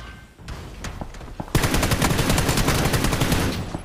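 Gunfire in the video game PUBG: a few separate shots ring out, then from about midway a dense, loud burst of rapid automatic fire keeps going to the end, with no talk.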